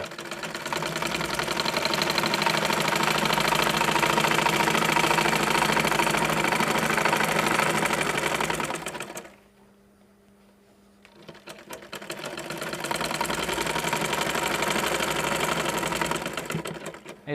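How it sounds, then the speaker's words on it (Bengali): A sewing machine stitches elastic onto pajama fabric with a loud, steady mechanical whirr. It stops for about two seconds midway, then runs again at the same even pace. "দেখেন এক সেলাই দেওয়া শেষ এখন কিন্তু যেখানে রাবার এবং যেখানে কাপড় সেখানে লেগে গেছে"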